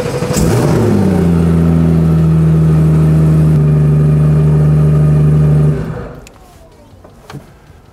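A test development race car engine starts up with a sharp rising rev, then settles into a loud steady idle with a strong low hum before cutting off abruptly, leaving quiet clicks.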